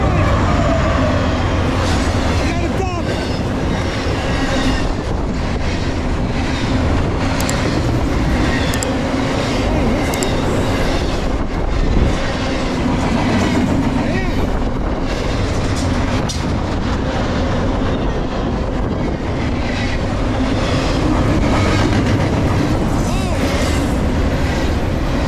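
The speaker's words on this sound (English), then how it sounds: "Got Northern Southern." A Norfolk Southern freight train, locomotive 4544, rolls past on the Lehigh line with a loud, steady roar and continuous rumble of wagons clattering over the rails, close and unbroken throughout.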